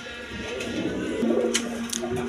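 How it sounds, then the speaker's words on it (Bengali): A pair of Indian Kaldom pigeons coo softly nearby, a low rolling murmur with a few gentle repeated calls against quiet room noise. "দর্শকবৃন্দ এইটা কালদম কবুতর, এটা মাদিটা নাজরানা আর নটটা কালদম, ইন্ডিয়ান কালদম দোনোটাই"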